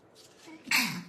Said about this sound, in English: I'm gonna sneeze though.